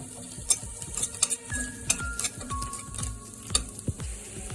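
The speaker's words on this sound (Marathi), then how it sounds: "ब्लॅक पेपर, मस्त टॉस करून घेऊया" Masala broccoli with black pepper is tossed in a hot pan, giving a soft continuous sizzle broken by repeated scraping and clinking knocks of a spoon against the pan.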